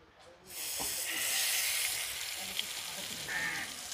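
Stuffed squid hits a hot pan and bursts into a loud, steady hiss and sizzle of frying that swells and holds, close up, with no talk over it.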